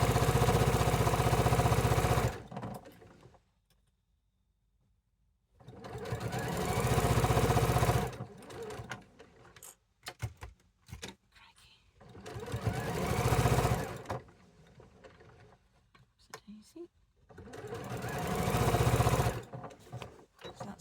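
A sewing machine runs in several loud, steady bursts while stitching a quarter-inch seam on a sampler quilt block. Short pauses with faint clicks and handling noises separate the runs.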